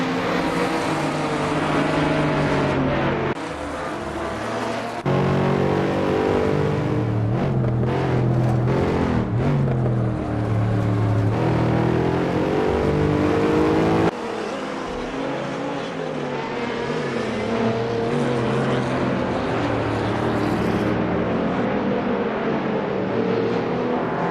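Race cars in the video game Assetto Corsa blasting down the main straight at Imola, loud engines with repeated gear changes and rising revs, cars passing close by with shifts in pitch, alone without talk.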